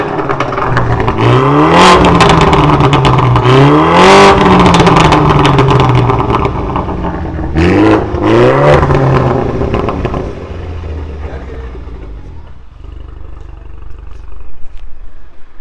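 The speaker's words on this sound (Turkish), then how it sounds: "arabada downpipe yazılıma girmeden de sanki böyle popcorn varmış gibi 3 silindirlerde olduğu gibi patlama sesi çıkartıyor" A BMW G22 420 coupe with a remote-controlled performance exhaust revs hard several times, rising and falling loudly close by, with popcorn-style crackles and pops on the overrun before settling back to a quieter idle.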